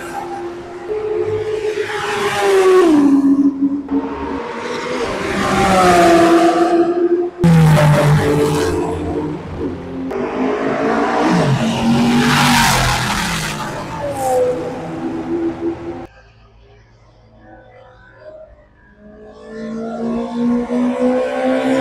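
A Peugeot 206 laps the Le Mans circuit, its engine revving and shifting through gears as it passes and recedes, loud and rising then falling, with a quieter stretch near the end.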